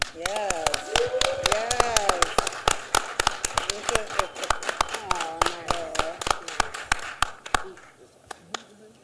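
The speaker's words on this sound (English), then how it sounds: "have a round of applause for Jeffrey Nugent" At a sports award show, a scattered round of applause breaks out, with sharp individual claps popping loudly and unevenly while people talk and call out over them, then thinning out toward the end.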